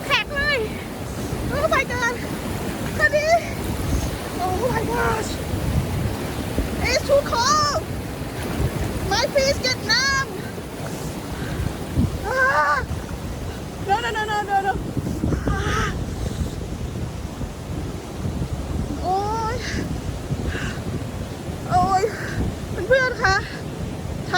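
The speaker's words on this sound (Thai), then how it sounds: "น้ำมันไหลมาจากภูเขานะคะ" Cold mountain water rushing steadily down a stream in Sabino Canyon, Arizona, a constant near wash of flow running throughout while people talk over it.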